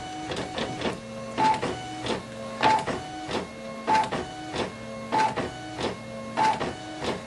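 A printer in poor condition runs through a repeating mechanical cycle of whirring carriage passes and clunks, about six evenly spaced bursts with steady tonal hums between, close and alone.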